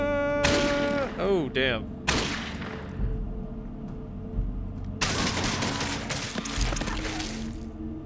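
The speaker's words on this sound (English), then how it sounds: "That was some slick shooting." Gunfire in combat in the video game Fallout 2 comes as sharp bursts and cracks mixed with game sound effects, with a short spoken exclamation in between.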